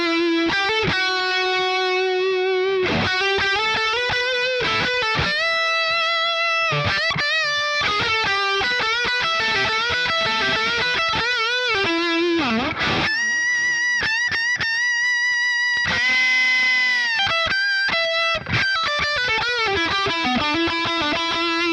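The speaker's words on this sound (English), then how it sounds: "Next we'll check out the modern lead." An electric guitar through a Boss Katana Mk II amp on its modern lead preset plays a distorted solo line, loud and sustained with bends and fast runs, alone without talk.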